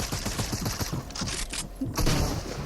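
Gunfire crackles in Fortnite, a dense, loud burst of overlapping shots rattling continuously, briefly thinning before another heavy volley near the end, with no clear speech over it.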